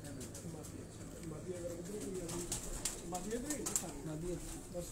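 Soft, low pigeon coos repeat in gentle rolling phrases over a steady outdoor hum on a Lahore rooftop, with a few brief higher chirps mixed in.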